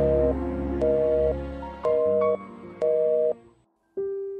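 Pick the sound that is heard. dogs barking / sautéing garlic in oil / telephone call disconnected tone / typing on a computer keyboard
telephone call disconnected tone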